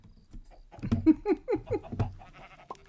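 Sheep in Minecraft bleat about five times in quick succession, a rhythmic run of nasal calls, moderately loud with no talk over them.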